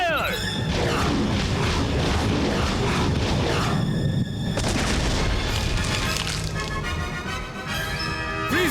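Freeze missiles fire from the Power Rangers Super Train in a loud, continuous barrage of booms, crashes and whooshing effects that fills the whole stretch.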